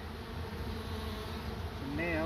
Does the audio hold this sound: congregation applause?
no